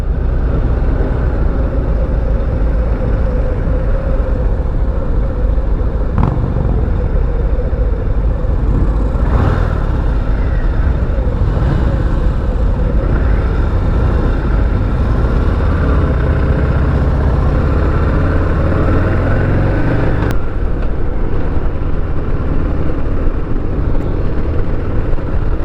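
Harley-Davidson Heritage Classic motorcycle cruising on the road behind a Sport Glide, its engine drone and wind rush steady and loud throughout, with brief sharp bumps mixed in.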